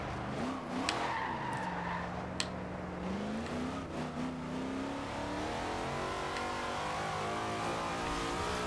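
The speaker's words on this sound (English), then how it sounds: "Man, a lot of fourth gear wheel spin there." A 1963 Chevrolet Corvette C2 in a Forza Horizon 2 race spins its wheels in fourth gear, its engine revving loudly and rising and falling in pitch over a steady tire squeal, continuous and close.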